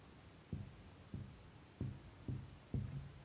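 Chalk or marker strokes on a board during a Bengali maths lesson on Pythagoras' theorem, five short scratchy taps spaced about half a second apart, near and clear over a quiet room.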